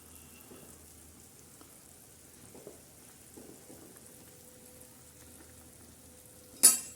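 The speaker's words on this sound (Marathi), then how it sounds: "हे बघा, छान अशी उकळी आलेली आहे." Spicy shev bhaji curry boils in an uncovered pot, giving a faint, steady soft bubbling and popping, ending with a sudden sharp clatter.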